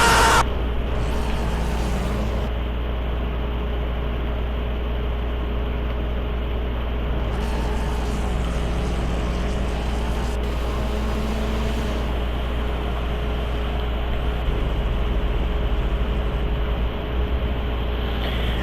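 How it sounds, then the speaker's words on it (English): Car engines in a racing video game whine and drone continuously, with pitch sweeping up and down as the cars swerve and spin, steady and fairly loud throughout without speech. "Confused engine noises."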